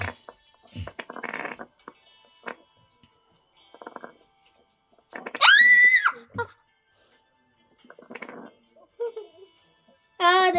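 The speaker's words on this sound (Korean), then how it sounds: "비명" Loud, rising screams burst out during play of a jump-map game, one long cry midway and another at the end, between bits of excited chatter and laughter.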